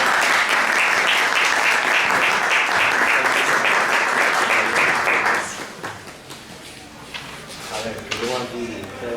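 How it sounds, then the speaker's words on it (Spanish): Audience applause greets two invited guests at a film forum talk, a dense steady clapping for about five seconds that then fades away, followed by quieter room noise and a voice beginning to speak. "Un fuerte aplauso para ellos."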